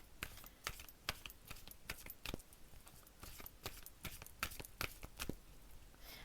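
Soft, close card shuffling for a card reading, a run of light irregular slaps and flicks repeating throughout at low volume with no talking.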